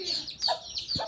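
A mother hen with her chicks gives a few quick, close clucks in a short burst, heard on its own.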